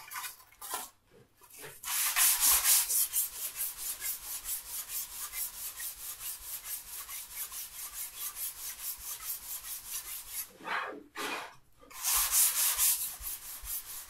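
Wood is sanded by hand with sandpaper in a quick, even rhythm of rasping strokes, close and clear, with short pauses at the start and near the end; no one speaks.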